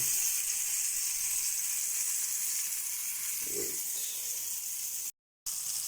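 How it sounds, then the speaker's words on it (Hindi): Chapli kabab frying in a pan gives off a steady, bright sizzle and hiss, continuous and close, with a brief dull bump partway through and a momentary dropout near the end. "ये जनाब है जी हमारा चपली कबाब, जो कि फ्राई हो रहा है।"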